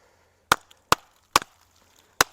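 A golok machete chops wood in four sharp, separate strikes spaced about half a second apart, each a crisp, fairly close thwack with a little follow-on knock.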